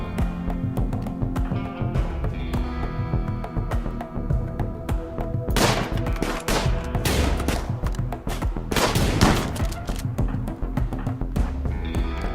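Raid gunfire in a modded Wild West Rimworld game: scattered faint shots and thuds under a steady music bed, with a burst of denser firing in the middle.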